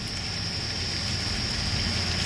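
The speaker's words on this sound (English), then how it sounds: "now it's raining today" Rain falls outdoors in a backyard, a steady close patter with a constant hiss. No other sound stands out.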